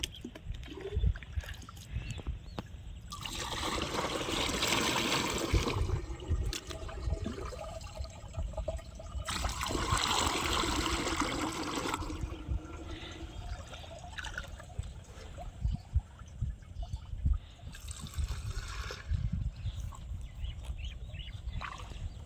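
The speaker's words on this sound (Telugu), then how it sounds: "ఆ తర్వాత మళ్ళీ నీళ్ళు పోసుకుంటే అప్పుడు ఫుల్ మిక్స్ అవుద్ది" Water is poured into a pesticide sprayer tank in a farm field to mix the spray. Three separate rushing, splashing pours come with quieter handling noises between them.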